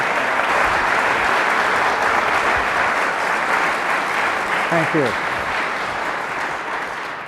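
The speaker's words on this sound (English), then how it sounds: "Please give a round of applause" A conference audience gives loud, sustained applause welcoming a speaker, the dense clapping filling the whole stretch while someone briefly says a few words near the end.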